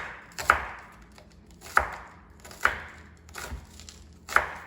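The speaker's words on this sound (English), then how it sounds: "And then I just slice them real fast." A knife slicing green onions on a cutting board, five sharp, evenly spaced chops close up, each a crisp thud with a short ringing tail.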